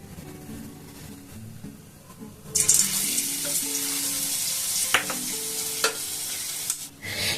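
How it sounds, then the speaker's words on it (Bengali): Boondi dropped into hot oil for homemade chanachur, a quiet hiss that suddenly swells into a loud, steady crackling sizzle, with a few sharp clinks of a utensil against the pan. "আবার ওই একই সেম পদ্ধতিতে আমি বোঁদেগুলোকে ফেলবো।"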